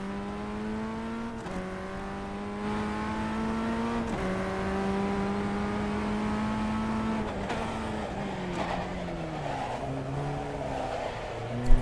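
A racing car engine in a video game revs and climbs through repeated gear shifts, its whine rising and dropping steadily for the whole stretch.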